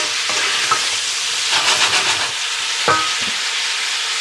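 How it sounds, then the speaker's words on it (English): Onions caramelize over medium heat in a pan, a close, loud sizzle with a few scraping strokes of a spoon stirring through them, and no voices. "Just put them on medium heat and just keep stirring."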